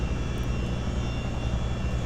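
Boeing CH-47D Chinook helicopter in a flight simulator, its engines and twin rotors droning loud and steady as power is added, a dense continuous roar with no gaps.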